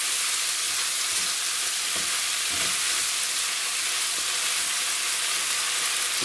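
Mushroom vegetable fried rice sizzles steadily in a pan while it is stirred, a constant loud frying hiss with occasional soft scraping knocks of the utensil, no voices.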